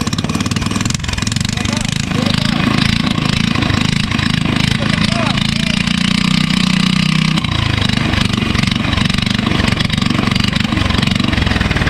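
A drift kart engine running steadily and loudly throughout, with a low rough drone that stays constant, while people talk over it.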